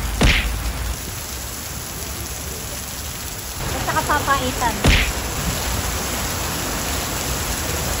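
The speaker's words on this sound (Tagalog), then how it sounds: "Kaya lang biglang umulan." A sudden downpour at Batu Caves, Malaysia, makes a loud, dense, continuous hiss close by, with a few sharp clacks and brief talking partway through.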